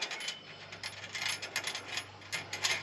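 A bolt on a trailer winch mount is tightened with a ratchet, giving close, quiet, rapid metallic clicks in short bursts.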